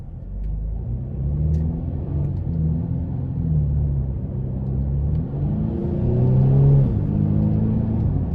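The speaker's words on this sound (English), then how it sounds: "it still shifts very quickly in eco mode with the paddle shifters" A 2017 Mercedes-Benz C300 engine hums as a steady, low in-cabin rumble in eco mode, its pitch rising and dropping as paddle shifts come quickly, with a brief swell of revs near the end and no talking.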